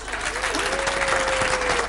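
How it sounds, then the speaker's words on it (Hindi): An audience breaks into dense, continuous applause and cheering, loud and close for a couple of seconds, with some voices mixed in. "तालियां।"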